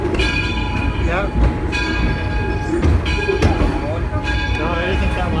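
Edison train at Greenfield Village running steadily with a loud, continuous rumble and sustained tonal whine, with sharp clanks and surges throughout while voices murmur underneath.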